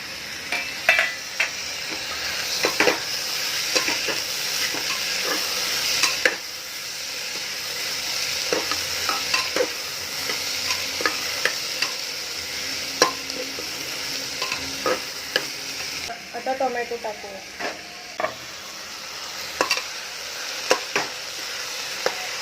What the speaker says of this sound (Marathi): आता बटाणे पण टाकून थोडे परतून घेऊया